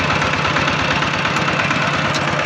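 Car engine running steadily while driving along a countryside road in Laos, a continuous low rumble with mild vibration, fairly loud and close, no voices.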